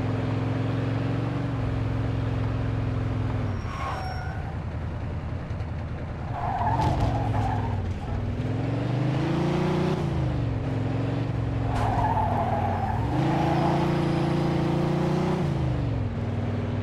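A car in a Mafia 2 police chase speeds and skids, its engine roaring steadily while tires squeal in repeated long screeches as it swerves, loud and close throughout.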